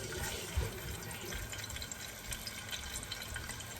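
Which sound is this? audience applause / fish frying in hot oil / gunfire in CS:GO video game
fish frying in hot oil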